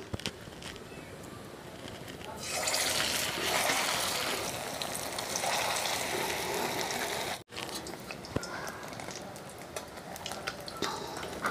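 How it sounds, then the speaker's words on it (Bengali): Balls of banana stem (thor) fry in hot white oil in a wok, with a steady bubbling sizzle that swells up and continues, broken by a few faint clicks. "এবার আমি এটা গোল গোল করে তেলের মধ্যে ভেজে নেব।"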